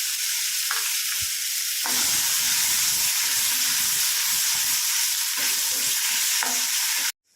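Ground masala paste is stirred into a frying Dhaba-style egg curry, giving a loud continuous sizzle and hiss with scraping stir strokes in the pan, cutting off abruptly at the end.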